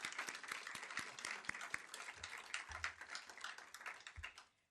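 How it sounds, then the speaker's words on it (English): Applause at a school board meeting honoring a school's award, a quiet, moderate-sized crowd clapping steadily with distinct individual claps, tapering off at the end. "That deserves a round of applause."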